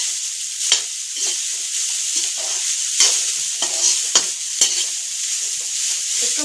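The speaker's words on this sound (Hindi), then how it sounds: "चला करके मैं सब्जी भून लेती हूँ" Vegetables frying in a village kitchen pan with a steady high sizzle, broken by repeated scraping stir strokes of a spatula at an irregular pace, close and with no talking.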